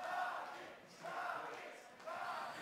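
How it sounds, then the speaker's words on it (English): A large esports arena crowd at a Counter-Strike: Global Offensive match between FaZe and Na'Vi swells in waves of distant cheering and chanting, three rising surges under faint background noise. "the crowd coming to life now"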